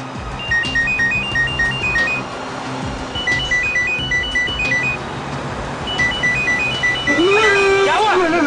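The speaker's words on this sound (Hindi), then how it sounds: "फोन की घंटी बज रही है, आप उठाओ ना फोन" A phone ringtone chimes in repeated short melodic bursts over dense background noise, with people talking nearby.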